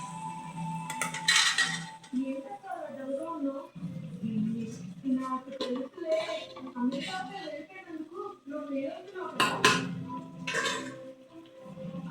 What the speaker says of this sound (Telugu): టమాటలు వేసిన తర్వాత మెల్లగా కలపాలండి మొత్తము కలపాలి